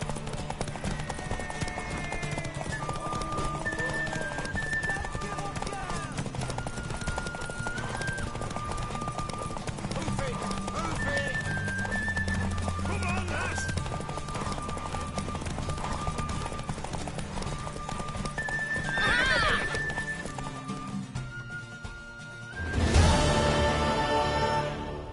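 Horse hooves clip-clop steadily through a PS4 video game scene, joined by a brief whinny, with game music and effects running underneath and a louder burst of activity near the end.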